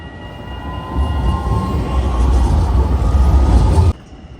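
Loud rumbling of a train rolling along the tracks at a station in Rotterdam, Netherlands, growing steadily before stopping abruptly near the end.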